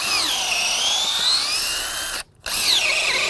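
A power drill whines steadily at close range, briefly stopping for a moment before spinning up again, its pitch wavering as it bores into Brazilian hardwood decking.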